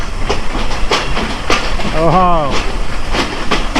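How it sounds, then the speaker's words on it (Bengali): A train with a 6600-series locomotive rumbles close by with a steady low mechanical drone and periodic clanks, and a short wavering tonal hoot rises briefly in the middle. "এইখানে হচ্ছে ছয় হাজার ছয়শো সিরিজের একটা লোকোমোটিভ সহ ট্রেন দাঁড়িয়ে আছে"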